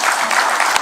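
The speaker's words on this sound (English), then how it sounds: "Another round of applause for His Excellency." Audience at a formal opening ceremony for a digital and AI skilling and green tech centre applauds a dignitary, with dense, steady clapping from a large crowd throughout the short burst.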